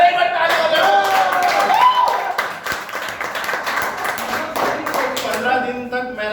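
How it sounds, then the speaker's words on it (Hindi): Audience clapping at a talk, a loose patter of many hands beating quickly and fairly close, sitting under louder talking voices throughout. "अरे एक बार ताली बजाओ"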